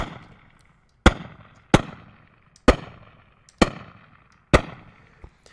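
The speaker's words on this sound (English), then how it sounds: "if I fire my rifle right now, and this is the rifle that my character is holding" Five sharp rifle shots in an Unreal game using Wwise reflections, each a loud crack followed by a decaying echo off nearby walls, spaced roughly a second apart.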